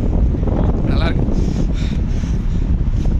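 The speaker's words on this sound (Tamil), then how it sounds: "காற்று ஓவர்" Strong wind buffeting the microphone outdoors at the Dubai Frame in Dubai, a constant loud low roar while a person speaks briefly over it.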